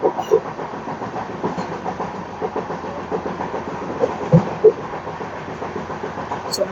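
A train on the Konkan Railway rumbles along steadily with muffled clickety-clack beats and a low continuous drone, heard from inside the carriage at moderate loudness.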